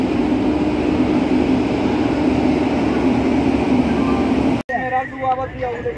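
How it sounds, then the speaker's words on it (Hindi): The Shramjeevi Express locomotive idles at Mughalsarai Junction with a loud, steady engine rumble and whine. After a brief cut, the station ambience turns to softer tonal hums. "ये हमारे श्रमजीवी एक्सप्रेस, इसी से हम लोग जा रहे हैं न्यू दिल्ली। ये इसका लोकोमोटिव।"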